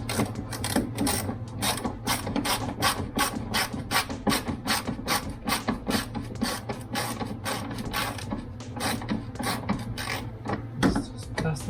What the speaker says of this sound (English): And one more screw into plastic here too.